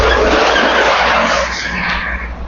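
A car swerves in heavy city traffic near Congressional and Visayas Avenue, its tires skidding and squealing loudly up close in a harsh, sustained screech that fades slightly toward the end.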